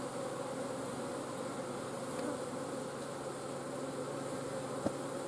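Honey bees buzzing around a hive in January, a faint, steady drone of many wings with a soft click partway through and no voices.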